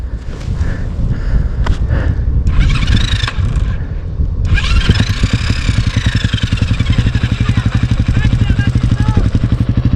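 A motorcycle engine runs loud and close on a Dakar-route dirt trail in Morocco, started in second gear, with a steady rapid throb and rising revs under wind noise and voices talking.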